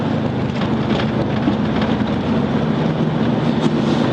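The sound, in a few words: rain falling on a truck windshield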